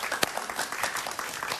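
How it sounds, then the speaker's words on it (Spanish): Studio audience applauding a guest, a retired military officer, on a Spanish-language talk show; short, steady burst of clapping with one sharp louder clap early on. "Un aplauso para él, por favor."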